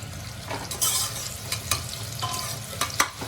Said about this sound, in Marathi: आता आपण त्यात कांदा टाकूया थोडा